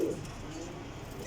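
Pigeons coo softly in a loft, a faint low throaty coo at the start over quiet background noise.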